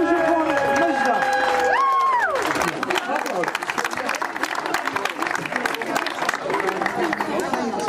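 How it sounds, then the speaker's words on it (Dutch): Applause and crowd noise for Mesda receiving her diploma at a community event in Gouda Oost, starting after a few seconds of talk and continuing as steady, close clapping and chatter. "Applaus voor Mesda."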